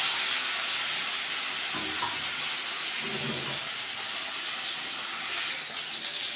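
Fish tail pieces frying in oil give a steady, loud, close hiss and sizzle that runs unbroken throughout, with a couple of soft low knocks partway through.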